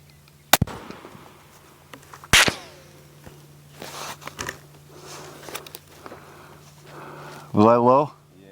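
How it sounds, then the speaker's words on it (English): A Ruger American Gen 2 .308 bolt-action rifle fires a single sharp report early on, followed by a second loud crack, with brief chatter and handling noise in between and a short burst of voice near the end. "All right, first shot."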